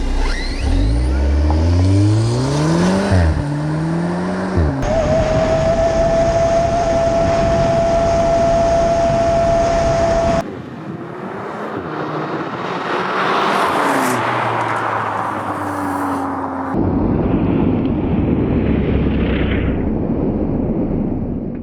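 A full-size car, a drone and an RC car drag race over 100 metres: engines rev and shift with rising whines, a high steady motor tone, then further revving and whooshing passes, loud throughout.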